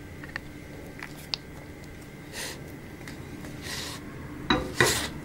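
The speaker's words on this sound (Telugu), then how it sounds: "ఇప్పుడు ఈ బటర్లో మనం ఈ గార్లిక్, ఈ పచ్చిమిరపకాయలు, ఈ చిన్నపాయలను కూడా వేసేసుకుందాం." Garlic, green chillies and small onions go into butter in a pan. Nearby clinks of a utensil against cookware are followed by a few louder rustling, sizzling bursts, with no talking.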